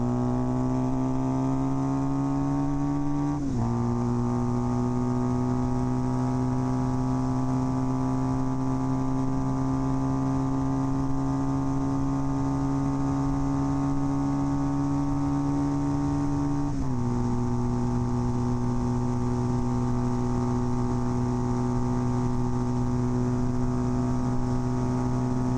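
Kawasaki KZ400 tracker motorcycle engine droning steadily at high revs, pitch climbing slowly with two abrupt drops as it shifts up through the gears, loud and continuous with no talking.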